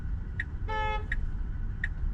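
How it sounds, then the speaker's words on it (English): A car horn honks several times, short beeps and one longer blast, over a low rumble of road traffic nearby, heard from inside a Tesla driving in New York City. "It's not me being honked at."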